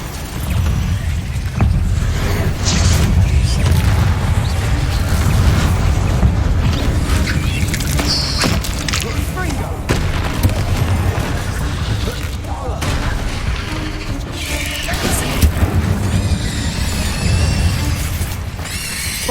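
Repeated Bombarda spell explosions in Hogwarts Legacy, loud booming blasts layered over dense continuous combat noise and game effects throughout, with short voiced spell calls mixed in.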